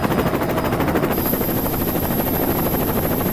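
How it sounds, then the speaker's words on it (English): A helicopter's rotor chop fills the whole stretch as a dense, steady, rhythmic thudding. It sounds fairly close and loud, runs unbroken, and nobody speaks over it. "it's just a big dude in a helicopter"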